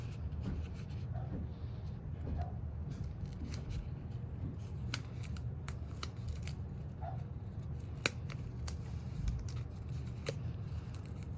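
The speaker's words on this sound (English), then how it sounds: "we're gonna go ahead and peel the stickies off." Paper backing peeled off stickers for a fall festival craft, a continuous close rustle with scattered soft crinkles and ticks.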